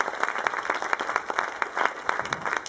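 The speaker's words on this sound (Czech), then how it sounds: "Takže tohle je zase potlesk pro vás." An audience at a Christmas children's dance show claps together, producing a moderately loud, even stream of clapping with distinct individual claps across the short stretch.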